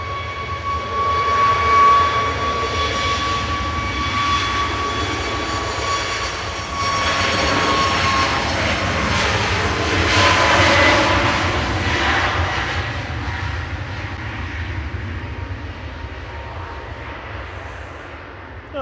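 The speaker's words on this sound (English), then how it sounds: "It's finally making its way in. Ryanair to Cologne with flight 1593 next." Ryanair jet taxiing at Manchester Airport, a loud sustained engine roar with a high whine, swelling and easing slightly as the aircraft rolls past nearby.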